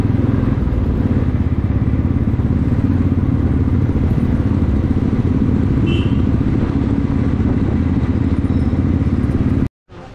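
A motorcycle engine runs continuously with a loud, close rumble and clatter on a mountain ride from Besisahar to Ghalegaun, before cutting out abruptly near the end.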